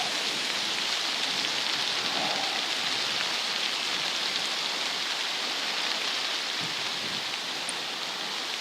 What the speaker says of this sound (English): the wind's blowing so hard I can't hear anything